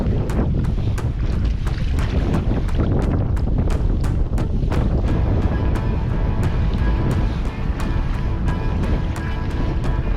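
Rough Yukon River waves sloshing around a canoe in steady wind, a loud, constant roar of water and wind buffeting with frequent sharp slaps against the hull.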